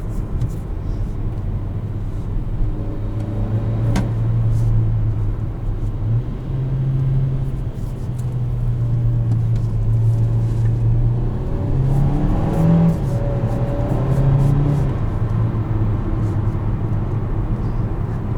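A 2021 Kia Seltos SX Turbo with a dual-clutch transmission accelerates, its engine droning loud and steady from inside the cabin, with pitch rising and dropping briefly at quick gear changes.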